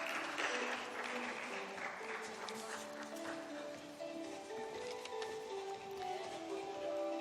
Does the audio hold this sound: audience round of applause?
yes